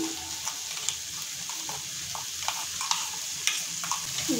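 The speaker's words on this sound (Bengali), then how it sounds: "এবার আমি দিয়ে দিচ্ছি বয়েল করা লাউ শাক। তৈরি করা মশলাটা দিয়ে দিচ্ছি।" Boiled bottle gourd greens and spice paste are stirred into mung dal in a frying pan, a soft sizzle under repeated light clicks and scrapes of the spoon against the pan.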